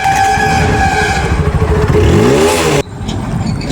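A TVS motorcycle engine turns over on its electric self-starter and catches, running loud and close with a rough, rising rev before cutting off abruptly.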